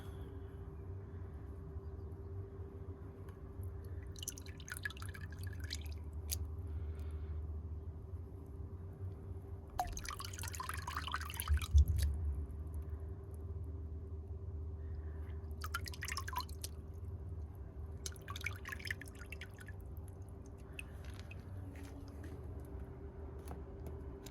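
Water dripping while a potted succulent is watered on a balcony: a few scattered, faint drips in short clusters over a low steady background hum, without speech.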